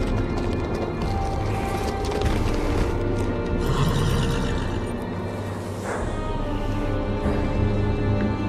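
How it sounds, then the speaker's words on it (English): A horse neighs and its hooves clop in the Game of Thrones adventure game, set at the Night's Watch gate by the Wall, layered over a steady droning ambience at moderate volume with no clear speech. "On a horse, no less."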